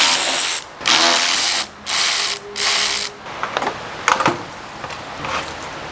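A ratchet clicks rapidly in several bursts while loosening bolts on the lower support of a Ford Fusion, close up, followed by scattered metallic clinks and handling noises.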